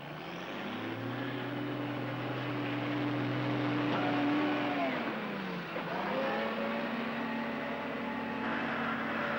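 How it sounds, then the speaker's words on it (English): A dragline scooping up loosened nickel ore at an open mine, heard as a continuous heavy diesel engine drone with shifting pitch as the machine works, with no talk. "The loosened ore is scooped up by dragline and piled into heaps."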